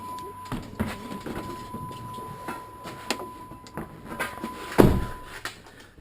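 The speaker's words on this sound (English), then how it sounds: "Clunking noise in this front corner." The front suspension corner of a 2012 Jeep Compass gives scattered hollow clunks and knocks as the car rolls over bumps, mostly faint, with one heavier thud near the end.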